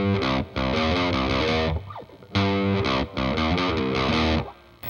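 Distorted electric guitar plays the second half of a riff, heavy chugging notes in two loud bursts separated by a brief pause, alone with no talking.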